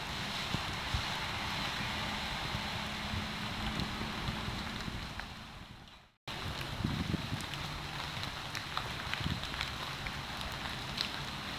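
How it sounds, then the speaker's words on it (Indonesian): Steady rain falling at Setu Cikaret lake, a broad continuous wash of patter with a brief dropout partway through, recorded close on a rugged waterproof Olympus TG-820 camera, with no talking. "suasana di Setu Cikaret ini lagi hujan"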